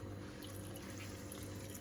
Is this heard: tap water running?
yes